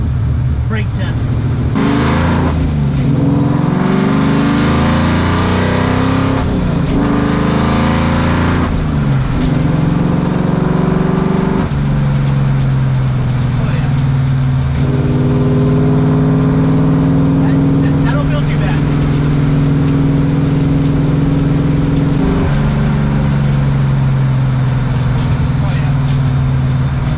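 A car accelerates and brakes hard during a brake test, its engine note rising and falling in long sustained sweeps that stay loud and close throughout.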